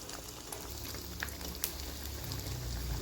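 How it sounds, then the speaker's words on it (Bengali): Fuluri batter bubbles and crackles as it drops into hot oil, a steady close frying hiss with scattered pops and a low rumble swelling near the end. "তো এবার আমি তেলে দেবো, কারণ তেলটা আমার গরম হয়ে গেছে।"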